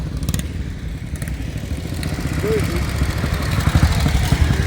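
Several motorcycles at a bike week gathering in Pesaro, Italy, rumble and rev close by in a steady, rising engine roar, with crowd voices mixed in underneath.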